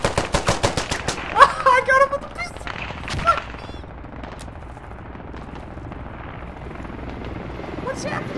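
Pistol gunfire in the war video game Squad: a quick run of sharp close shots at the start, then a few scattered reports, with excited voices talking over the game noise.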